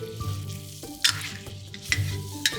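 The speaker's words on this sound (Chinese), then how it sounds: "中火爆香排骨" Pork ribs marinated in fermented red bean curd sauce sizzle and fry in moderately hot oil in a wok over medium heat, with a steady crackle and several sharp scraping stir strokes, without talk.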